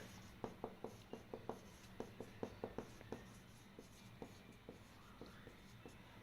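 Chalk or marker writing on a board during a chemistry lesson: a quick run of crisp, regular taps and strokes, then slower, more spaced marks, close and fairly quiet with no speech.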